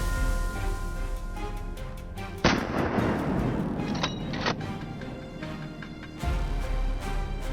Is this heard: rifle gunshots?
yes